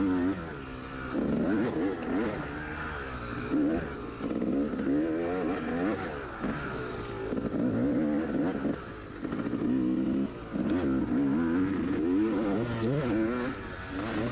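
A dirt bike tears along a fast trail section during a Cherokee round of an NEPG off-road race, its engine loud and close, revving steadily with rapid shifts and throttle surges throughout.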